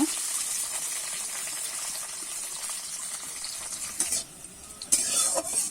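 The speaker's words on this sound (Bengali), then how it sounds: "উচ্ছেগুলো আমি নেড়ে চেড়ে ভালো করে ভেজে নেব" Hot oil sizzles steadily up close while a spatula stirs and scrapes through bitter gourd frying until reddish-brown, for shukto, with a few sharper clinks near the end.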